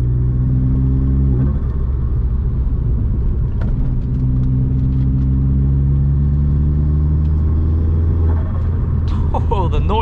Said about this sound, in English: Noises this thing makes is mad.